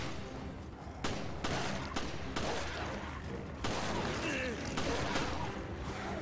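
Repeated gunshots in Resident Evil Revelations co-op, sharp close bursts spaced irregularly every second or so over a dense backdrop of game noise, with voices talking.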